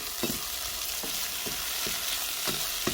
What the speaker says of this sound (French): Quand les oignons commencent à bien caraméliser, au bout de 10 minutes, je viens rajouter des carottes précuites.